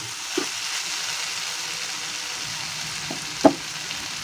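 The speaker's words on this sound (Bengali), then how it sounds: "এর মধ্যে আমরা জল দিয়ে দেবো খানিকটা জল দিয়ে এটাকে রাখবো" Drumstick pieces in mustard curry sizzle steadily in a pan as water is added, a soft continuous frying hiss with a couple of brief louder splashes and clinks, no talking.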